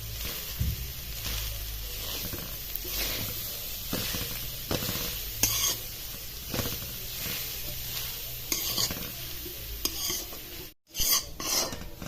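Grated coconut dry-roasting in ghee over medium heat, stirred continuously with a spatula that rasps and scrapes rhythmically against the pan under a steady sizzle, close up, with a brief silent gap near the end.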